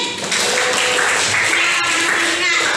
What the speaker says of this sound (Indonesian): tepuk tangan sekali